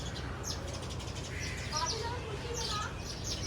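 Sparrows chirp in quick, light bursts against a noisy background on a farm plot, the twittering fairly faint and scattered.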